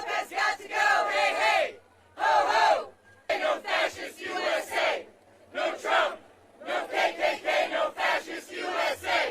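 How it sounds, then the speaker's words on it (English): A loud, defiant protest crowd outside the Capitol chanting in repeated rhythmic bursts with short gaps between them, many voices shouting together close up. "outside, the crowd was loud and defiant"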